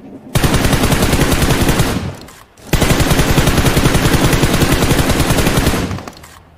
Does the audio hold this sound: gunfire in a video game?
yes